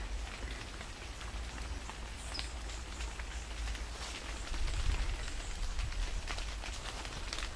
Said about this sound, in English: So here under the canopy of the food forest, we have rainfall on a day when it's not raining.